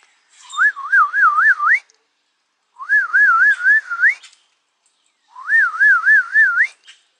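A man whistles an imitation of a chickadee, three separate warbling phrases that wobble up and down and end in a rising lift, with short silent pauses between them, close and clear.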